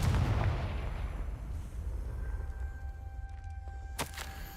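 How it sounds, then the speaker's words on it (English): A Confringo fire spell cast in Hogwarts Legacy lands as a heavy booming blast that rumbles and fades over several seconds, with a sharp crackle near the end. "Confringo."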